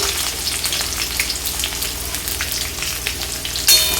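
Chopped onions fry with bay leaves and dried red chilies in hot oil, a steady close crackling sizzle with no talk, briefly sharpened near the end.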